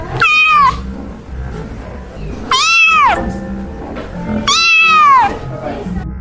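Close, loud cat meows, three drawn-out cries spaced a couple of seconds apart, each rising then falling in pitch. A low ambient rumble runs underneath, suited to a black cat prowling through a horror story.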